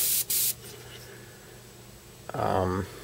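Two short bursts of hissing spray from a Badger Sotar 20/20 airbrush at about 26 to 28 psi open the clip, then a quiet stretch before a brief voice.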